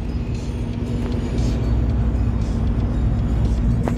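A turbo diesel Volkswagen car runs with a steady, low engine drone and road rumble heard from inside the cabin, even and continuous throughout, with no talking.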